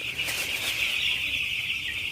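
Continuous high-pitched chirping from a group of five- to six-day-old broiler chicks, steady and fairly close, with no talking.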